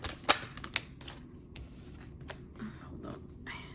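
Tarot cards are shuffled and drawn by hand, with a couple of sharp snapping riffles early on and then softer sliding, shuffling card sounds close to the listener.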